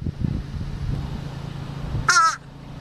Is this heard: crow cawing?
yes